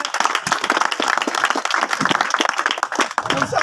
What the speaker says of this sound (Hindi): एक बार फिर से चाहूंगा इनके लिए शानदार तालियां